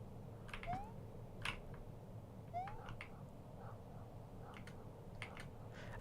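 A cat in a horror video game gives two short rising meows, spaced a couple of seconds apart, fairly faint over a low, steady ambient rumble with a few soft clicks.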